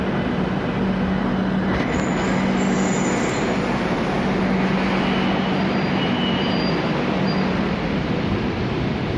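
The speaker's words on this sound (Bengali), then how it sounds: "দেখুন মেট্রো এসে গেছে, খুব সম্ভবত এটা থামবে" A metro train pulling into New Garia station, a terminal stop, with a steady broad rumble of wheels on rail, a low hum and faint high squeals rising over about nine seconds, with no voices.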